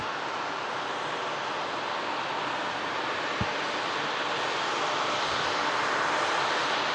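A Swiss airliner being pushed back at the gate, with a steady broadband engine hum and wind noise held at an even level throughout and a single brief knock partway through.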